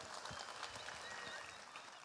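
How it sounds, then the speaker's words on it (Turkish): A crowd at a rally in a large hall applauds itself. It makes a continuous, even wash of many hands clapping, heard fairly faint and distant, with no break for the whole short stretch. "kendinizi bir alkışlar mısınız?"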